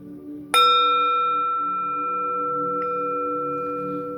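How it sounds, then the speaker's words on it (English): A single bell is struck once, ringing out with a clear sustained tone that slowly fades over several seconds. "listen to the sound of this beautiful bell"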